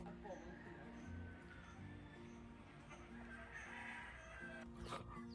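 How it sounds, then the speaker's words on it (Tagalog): Chickens cluck and call around a heritage hacienda, faint and somewhat distant, with people talking nearby over a steady background. "May mga manok"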